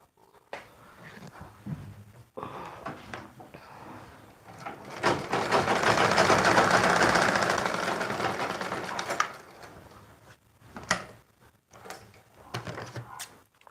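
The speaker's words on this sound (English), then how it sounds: "I'm going to hem one side of this one as well" A domestic sewing machine hems the edge of a double-layer ruffle dress in a steady whirring run of several seconds, close and fairly loud, framed by shorter stop-start bursts and fabric handling with no voice.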